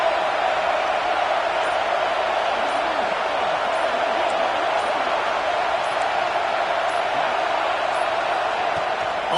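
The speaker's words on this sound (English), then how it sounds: "This crowd trying to make life miserable for this offense." A stadium crowd at a football game roars as a steady, dense wall of noise from start to finish, with a commentator's voice riding over it.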